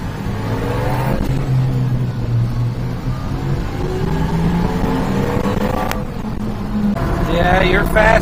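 Mini truck driving along with its engine revving in rising and falling pulls, loud and close, as people talk over it.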